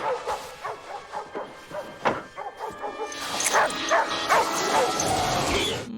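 A distressed dog in the Final Destination film barks and yelps, then whimpers and cries in high, rising bursts, all of it near and loud.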